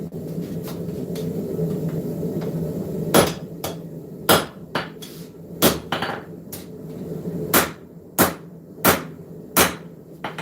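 Hammer forging hot metal on an anvil, with sharp ringing blows landing roughly once a second, some in quick pairs, loud and close over a low workshop rumble with no talking.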